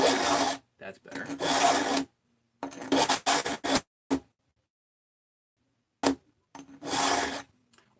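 A saw cutter tooth is hand filed to add hook angle, with bursts of dry metallic rasping strokes separated by pauses, up close and fairly loud.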